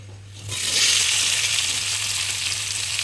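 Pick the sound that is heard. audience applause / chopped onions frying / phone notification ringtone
chopped onions frying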